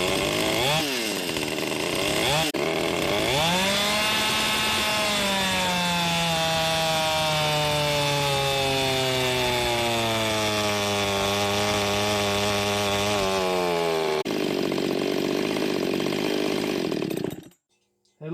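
A Husqvarna 579xp chainsaw screams at full throttle on a dyno, its engine note sweeping down steadily under load before rising again and cutting off abruptly near the end, loud and alone.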